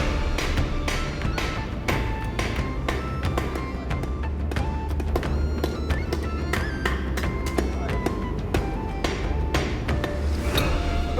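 Repeated hammer blows on hot metal while forging arrowheads by hand, a steady run of sharp metallic strikes over a constant forge roar, close and loud throughout.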